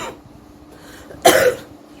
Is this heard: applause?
no